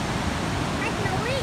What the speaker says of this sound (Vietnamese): Đứng trên đầu thác nha các bạn đây